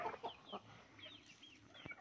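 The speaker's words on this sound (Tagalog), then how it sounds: "Ito po yung mga Rhode Island chicken ko po." Rhode Island Red chickens, a small backyard flock of laying hens with a rooster, clucking in short soft bursts at close range, several calls overlapping in a quiet yard.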